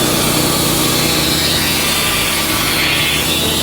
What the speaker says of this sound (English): I got good sawdust coming out.